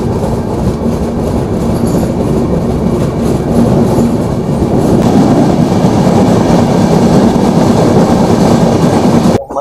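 The Gondwana Express rolls along the rails near Malkapur in a loud, steady roar of wheels and carriage rumble with faint rhythmic clicks, continuous for the whole stretch.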